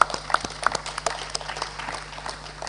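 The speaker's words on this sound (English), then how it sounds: "A round of applause for them." Audience applause for a youth panel at a Nigerian event, a crackling spread of hand claps with some sharper individual claps near the start, fairly close and thinning slightly toward the end.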